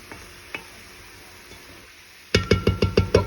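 Vegetables for a chicken, sausage and shrimp gumbo cook in a pot under a low steady sizzle, followed by six rhythmic loud scrapes and knocks of stirring close by.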